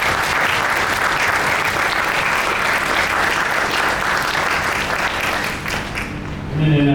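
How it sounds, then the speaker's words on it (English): Sustained applause for nominees at a professional excellence awards ceremony, a full room of clapping hands, loud and steady for several seconds before fading at the close. "Round of applause for all of our nominees this year."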